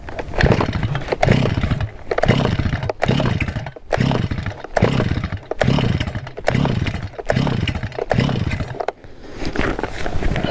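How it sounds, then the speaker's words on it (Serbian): A STIHL chainsaw is pull-started with a series of quick, rhythmic starter-cord yanks, each giving a short rasping burst from the engine. It splutters but never catches and runs, close and loud throughout. "i zatim ubrzano vučemo nekoliko puta dok se ne čuje zvuk motora."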